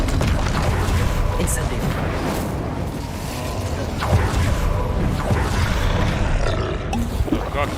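An Incendio fire spell being cast in Hogwarts Legacy, a dense roaring, rumbling blast of flame and combat noise running continuously at high level, with a few sharper impact hits.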